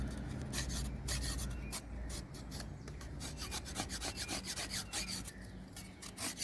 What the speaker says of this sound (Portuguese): Eu corto o bambu e vai raspando ele.